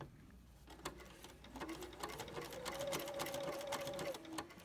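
A sewing machine runs continuously, stitching appliqué in a steady close whir with a rising motor tone and small clicks, fairly quiet overall.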